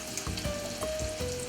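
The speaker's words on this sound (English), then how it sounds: "I at home will always make sure that my oil will reach halfway up whatever food I'm frying" Oysters frying in a pan of hot oil filled halfway up the food, a steady close sizzle and crackle with small pops throughout, no talking.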